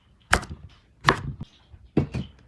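Food being chopped on a board for a dog-friendly pizza, three sharp separate knife strokes with short gaps of quiet between them, close and clear.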